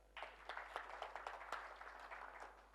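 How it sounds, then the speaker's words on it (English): Scattered applause from an audience at a hybrid annual general meeting for a retired pension scheme trustee: light, irregular claps from a modest crowd, heard faintly and somewhat distant throughout. "let's clap for her"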